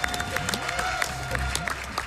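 A crowd claps steadily through a brief burst of applause at Awesome Games Done Quick 2019, dense and continuous, with a few voices mixed in.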